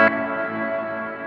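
A guitar chord through a Chase Bliss Mood MkII pedal blooms into a thick, washed-out reverb tail that sustains evenly without fading much, smeared and ambient.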